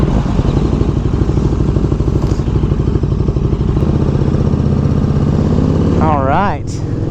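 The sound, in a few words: motorcycle setting off on a ride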